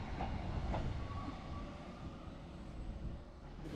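A Scotrail train running on the West Highland Line near Crianlarich, a steady low rumble with rail clatter from on board, moderately quiet with no talk.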